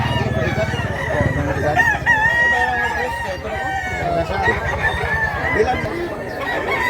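Roosters crow and chickens cluck at a busy poultry market in Mantalungon, Cebu, with layered calls close by over a constant crowd din and nearby voices talking.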